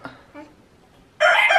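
Roosters crow loudly and close by, a single sharp crow bursting in near the end after a couple of faint, brief sounds.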